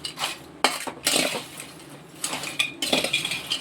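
Spoon scraping and clinking against a small metal pan while cassava chips are stirred with a pinch of asafoetida, in bursts of sharp metallic clatter separated by short pauses.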